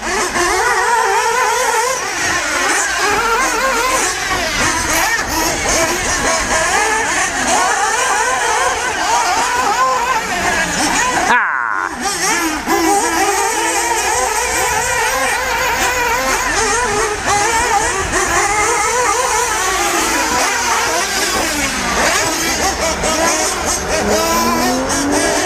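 The General Lee car, a Dodge Charger, is revved loudly over a long stretch amid a busy car meet. Other engines roar and tires squeal around it, with only a brief drop in the sound partway through.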